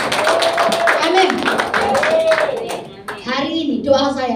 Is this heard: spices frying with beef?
no